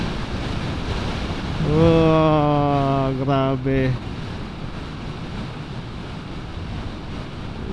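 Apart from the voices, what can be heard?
strong ocean waves near a lighthouse in the Philippines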